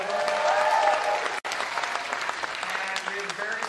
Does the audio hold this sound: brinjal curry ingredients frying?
no